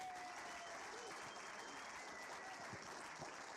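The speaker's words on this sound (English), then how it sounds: "Come on down and receive a lot of clapping and a lot of woo, woo." An audience applauds at a film awards ceremony in a steady, dense wash of clapping. It sounds moderately distant and holds evenly throughout, with faint crowd murmur underneath.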